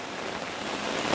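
Monsoon rain falls on a village home, a steady dense patter of drops on surfaces, close and continuous with no voices.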